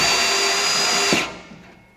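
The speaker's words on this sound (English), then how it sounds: "So you're drilling slow with pressure." Power drill driving screws slowly under pressure into a corten steel raised garden bed panel, one steady whirring run for about a second before stopping abruptly and leaving a faint tail.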